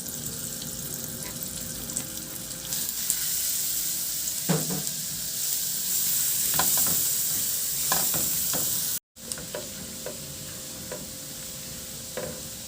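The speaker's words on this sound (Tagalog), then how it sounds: "igisa ko na rin yung bawang" Minced garlic sautéing in melted butter in a pan, a steady close sizzle with scattered stirring scrapes and clinks, briefly cut off near the end.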